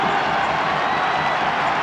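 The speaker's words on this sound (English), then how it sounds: "And the crowd has gone absolutely ballistic here." A football crowd at a 2005 FAI Cup semi-final between Cork City and Derry City erupts after a penalty goal, with a dense, loud, continuous roar of cheering and applause.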